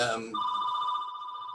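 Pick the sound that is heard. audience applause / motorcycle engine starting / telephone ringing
telephone ringing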